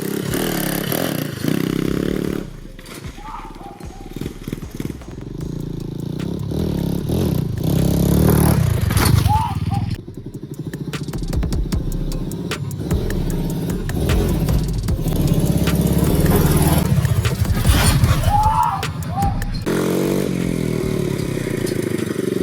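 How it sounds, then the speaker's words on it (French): A 125cc dirt bike ridden on a bare rim with no tyre revs and accelerates toward a small jump ramp, engine rising and falling with metallic scraping and clattering over about twenty seconds, loud and close. "On s'est préparé un petit tremplin et on va le tester de suite avec la dirt,"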